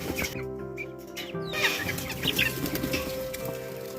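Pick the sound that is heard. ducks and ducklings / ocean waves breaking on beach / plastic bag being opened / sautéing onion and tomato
ducks and ducklings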